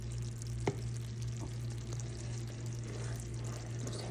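Peanut brittle syrup stirred with a wooden spoon in a buttered cast iron skillet, a faint bubbling sizzle with occasional soft knocks over a steady low hum, with no voices.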